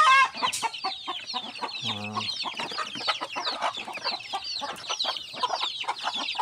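Texas breed chickens clucking close by in a busy flock, dense overlapping clucks and squawks with a short low rattling call partway through.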